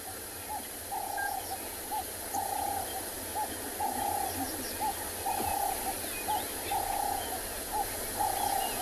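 Deep, soft hoots from a Verreaux's eagle-owl repeat at a steady pace in the distance at sunrise on a South African safari, set against a constant hiss of insects and a low background rumble.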